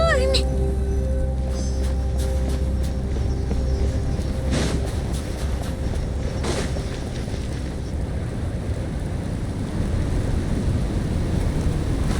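Snowstorm wind blows in Genshin Impact, a steady roaring gust with low rumble that keeps going at an even level, with a few brief bursts of other sound early on.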